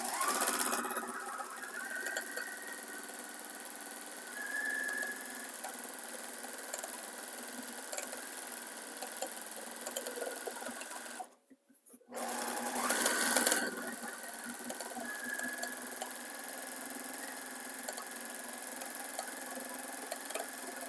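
Sewing machine free motion quilting through bulky quilt layers, a steady close motor whir with a fast stitching buzz that runs continuously, stops briefly for about a second midway, then resumes and keeps humming.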